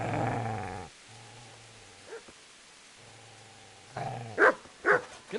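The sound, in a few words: dog growling and barking, from the video game Kingdom Come: Deliverance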